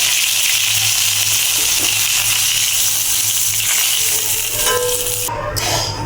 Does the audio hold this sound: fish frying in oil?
yes